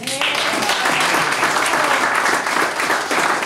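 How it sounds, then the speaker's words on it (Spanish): A crowd at a payadores (improvised folk song) performance in San Carlos breaks into loud, sustained applause, dense clapping that holds steady throughout. "Por eso aplauso merece Hugo González Hernández."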